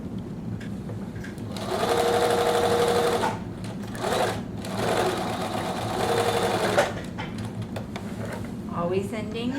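A sewing machine stitches a hood onto an atikłuq body in bursts of steady whirring, with pauses between runs, while someone talks over and between the stitching.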